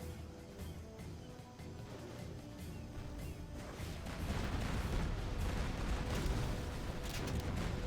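Friendly fire erupts during a Command & Conquer Generals Zero Hour tank-versus-nuke AI battle: a dense, rumbling barrage of artillery blasts and gunfire that builds louder in the second half.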